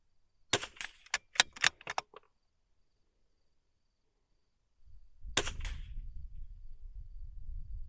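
Rimfire rifle fired at an adjustable spinner target, a quick burst of four sharp cracks followed later by a single shot, then a low rumbling noise.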